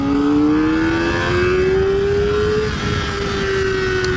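A 2023 Kawasaki ZX4RR inline-four motorcycle engine revs up smoothly and loud, its pitch climbing steadily through a gear, then holding a high whine close to the rider.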